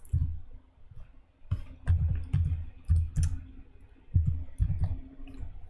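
Fast, irregular key clicks from a computer keyboard, clattering in uneven bursts with brief pauses, fairly close and alone.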